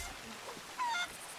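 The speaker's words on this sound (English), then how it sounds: "Chickens." A single short honking bird call in the video game Sea of Thieves, heard once, faint against a quiet ambient background.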